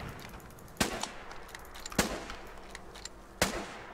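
Gunfire in the Foxhole video game, with three sharp, loud shots spaced about a second apart over a quieter background of distant battle noise.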